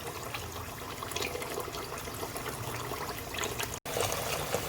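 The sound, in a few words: water running while washing beef and pig's tail for soup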